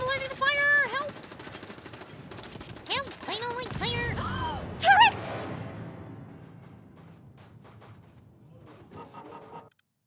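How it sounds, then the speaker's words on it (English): Rapid game gunfire in Fallout 4 comes in bursts aimed at the player, loud and dense at first and thinning over several seconds, with a voice speaking over the shots. "stop shooting me, stop shooting me"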